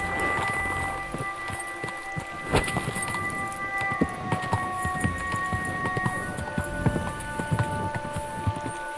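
Horse hooves clip-clop on the ground in Kingdom Come Deliverance 2, a loose, steady rhythm of hoofbeats under a faint background of birds and ambient noise.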